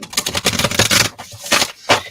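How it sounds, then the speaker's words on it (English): Oracle card deck being shuffled by hand, a quick crackly riffle of papery snaps and flutters in several short bursts, close and loud. "One more shuffle"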